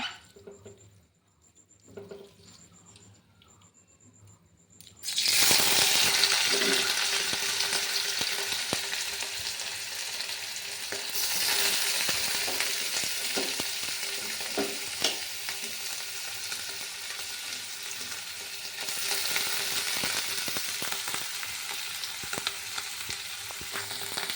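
Mushrooms drop into hot oil in a kadai after a quiet start, then fry with a loud, continuous sizzle and crackling patter that lasts to the end.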